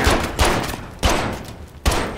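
Four loud, sharp gunshot bursts from a weapon in Modern Warfare, a first-person shooter video game, fire at roughly even intervals with short decaying tails, and no talk over them.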